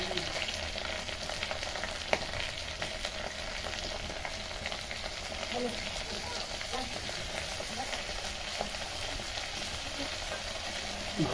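Pointed gourd with turmeric fried in a pan: a continuous crackling sizzle with faint, soft stirring movements under it, and one small knock early on.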